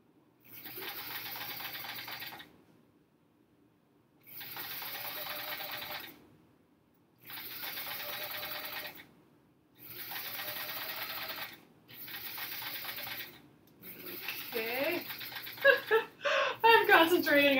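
A sewing machine stitches quilt hourglass units in several separate bursts of steady, close mechanical whirring, each lasting a couple of seconds with short quiet gaps between them. Clattering handling noises follow at the end.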